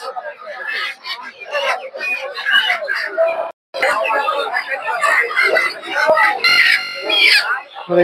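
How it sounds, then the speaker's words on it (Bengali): Native chickens at a busy Gausia Golakandail poultry market clucking and crowing in scattered bursts, close and fairly loud, mixed with constant crowd chatter and market bustle. "দেখতে পাচ্ছেন এদিকে প্রচুর পরিমাণে দেশি মুরগি পাওয়া যায়।"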